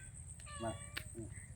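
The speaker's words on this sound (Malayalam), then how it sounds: "എനിക്കൊരു പൂച്ചാനെ കിട്ടി അതിന്റെ പേരാണ് വക്കര്" A cat meows a few times in short, clear calls while being carried uphill outdoors, with low background rumble and no talk.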